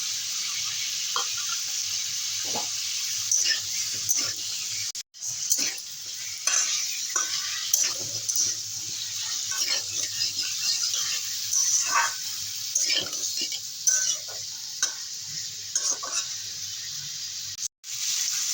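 Onion and garlic fry in a pan for chicken soup with a continuous hissing sizzle, while irregular stirring clatters and scrapes come through near and clear, and a dog barks now and then in the background.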